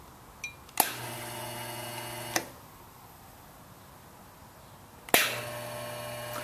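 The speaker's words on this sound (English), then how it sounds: "As I throw the switch, you'll hear a small pop." Purge gas starting on a PAS welding positioner sets off sharp, sudden pops, followed by a steady buzzing hum that cuts off and then returns with another pop, close and clear in a quiet room.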